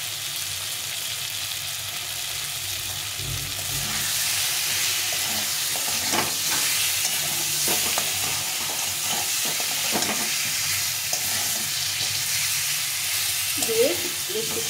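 Amra (hog plum) pickle with turmeric frying in a pan, a steady broad sizzle with scraping stirring strokes running throughout, close and moderately loud, with no talk over it.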